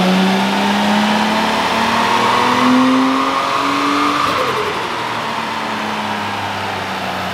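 An RB25DET engine with a China-made turbo revs hard under boost, its rising and falling engine tone loud and steady throughout with no voices.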